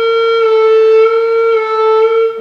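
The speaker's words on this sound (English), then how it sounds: "So when I open it and don't drop my air pressure, I stay with the same air pressure. It sounds like this." A Helder Evo tenor recorder sustains a single clear, steady note with the piano key open and the air pressure held constant, loud and close, ending with a slight breathy release and no talking.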